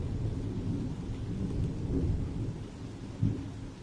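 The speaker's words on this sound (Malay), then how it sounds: "dekat rumah ni tengah-tengah hujan" Heavy rain pours down around a house, a dense steady hiss with low rumbling thunder rolling underneath and a deeper thunder swell near the end. No one speaks.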